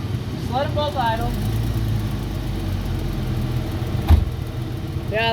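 A V6 Mustang and an inline-four Hyundai Veloster sit idling together, a steady low engine rumble close by, while people chat over it and a brief knock sounds.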